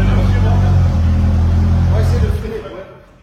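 Car engine idling in a low steady drone, then the pitch shifts and the motor loads up as the clutch engages around two seconds in, fading as it moves off; people chatter in the background.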